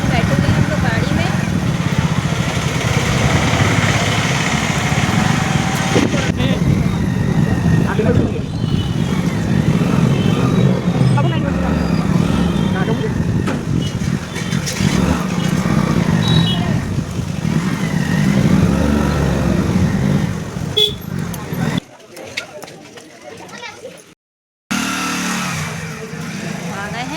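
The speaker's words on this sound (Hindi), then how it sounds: "चलिए बैठते हैं हम लोग की गाड़ी में" A car engine runs steadily while driving along a main road, its mid-pitched drone and road rumble continuing under people talking, before briefly cutting out near the end.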